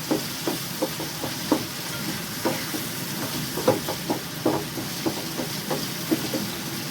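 Vegetable samosa filling being stirred after salt is added, a spoon scraping and tapping the pan in an irregular rhythm over a soft steady sizzle, close by with no talk.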